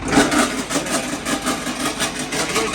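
A Vasundhra grain loader running with its gear engaged, the gearbox turning a pipe that draws grain for loading a trolley, giving a loud, steady mechanical whirr with a faint rhythmic pulsing and no voices.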